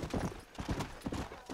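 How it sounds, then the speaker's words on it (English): Horse hooves in Red Dead Redemption clip-clop in a quick, uneven rhythm, close and clear, with no talking. "I need to care for my horse here."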